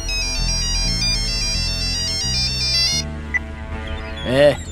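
A phone ringtone plays a repeating electronic melody for about three seconds, loud and close, then cuts off, followed by a short rising tone.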